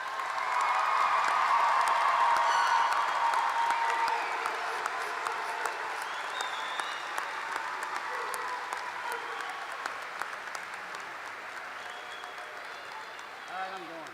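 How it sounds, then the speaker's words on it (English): A crowd at the Fort Zumwalt South High School class of 2025 graduation ceremony applauds the graduates. The clapping is loud and dense at first, then slowly thins and fades over about fourteen seconds, with faint voices underneath. "how about another round of applause for the class of 2025?"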